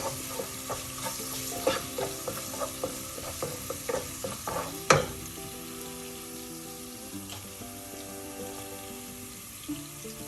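Turmeric powder sautéing in hot oil for a coconut-based mackerel fish curry, a steady close sizzle with a run of light stirring taps early on and one sharper clatter midway, then a calmer fry with no talk.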